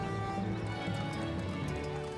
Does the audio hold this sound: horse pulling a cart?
yes